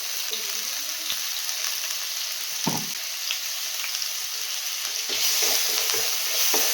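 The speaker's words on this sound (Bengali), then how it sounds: "এবার এই আলুটা যতক্ষণ না নরম হচ্ছে ততক্ষণ অবধি আমাকে ফ্রাই করতে হবে।" Diced new potatoes fry in ghee with a pinch of salt and turmeric, giving a steady, close hiss of sizzling with a few scraping stirs and light clatters in the pan.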